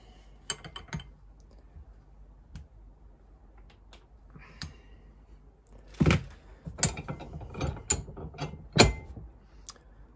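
Metal clicks and ratcheting taps from a spanner tightening the oil line fitting on a CB Performance 2017cc VW engine, in scattered close bursts with a denser cluster near the end.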